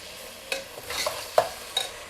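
Tomatoes and green chillies frying in oil for chicken biryani, with soft sizzling under a few brief scraping stirs of a spoon in the pan, fairly close and quiet.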